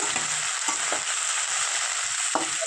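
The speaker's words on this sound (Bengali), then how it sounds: "তো দেখছো আলুগুলো ভাজা ভাজা হয়ে গেছে।" Sliced potatoes frying in a pan, a steady close sizzle broken by a few scraping stirs of a spoon, with no talking.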